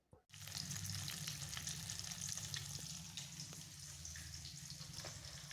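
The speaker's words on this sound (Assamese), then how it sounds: "এতিয়া মই মাছ ফ্ৰাই কৰি আছোঁ" Fish fries in a pan with a steady, crackling sizzle that starts abruptly and continues throughout with scattered pops; close and moderately loud, no talking.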